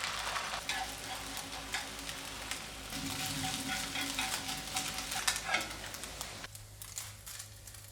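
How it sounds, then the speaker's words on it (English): An egg scrambles in a frying pan, sizzling steadily with scraping utensil strokes stirring it, close and continuous before the sizzle abruptly drops away near the end. "First, let's cook our egg, and we're going to keep this as simple as possible and just scramble it."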